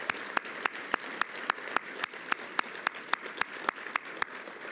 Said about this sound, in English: So if you would join me in a round of applause thanking them for their sponsorship.